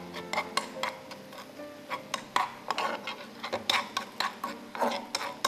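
A spoon clinks and taps steadily against a bowl while fermented tofu seasoning is mixed with sugar, a quick uneven rhythm of close, bright strikes with no voices.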